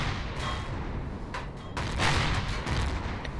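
Enemy laser fire strikes a spaceship in Empyrion, a loud, dense barrage of crackling impacts and bursts over a steady rumbling engine drone.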